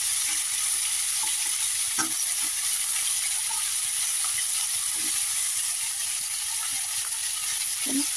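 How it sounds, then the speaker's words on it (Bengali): Mixed winter vegetables fry with spices, a constant close sizzle broken by occasional scrapes and knocks of stirring, with no voices. "মশলা ওই সবজিগুলো একটু ভাজা হোক,"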